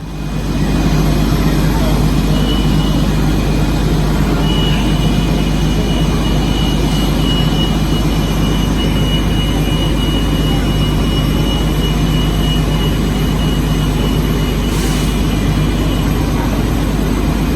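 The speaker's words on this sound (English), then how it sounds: "I absolutely love the ambience of a Magic Kingdom bus terminal at night" Night ambience at the Magic Kingdom bus terminal at Disney World: a steady, dense wash of idling bus engines and distant vehicle roar, broad and continuous, with faint crowd murmur underneath.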